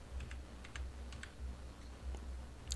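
Quiet, close computer keyboard typing, a few light, crisp keystrokes in short clusters over a low background hum, with no voice.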